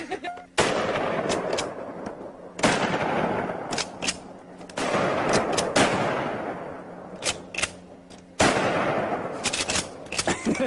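A sawed-off shotgun fires slugs in four very loud, widely spaced blasts, each followed by a long ringing decay and echo, with people talking briefly between the shots.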